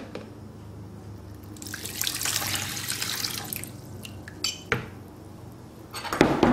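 Water pours into a bowl in a kitchen while making a baguette, a bright splashing rush building then trailing off, with light clinks of dishes and a few sharp knocks.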